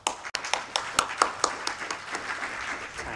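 An audience at a municipal experience-sharing event in Botkyrka claps for a speaker being welcomed, distinct close claps at first merging into a steadier patter of applause that gradually softens.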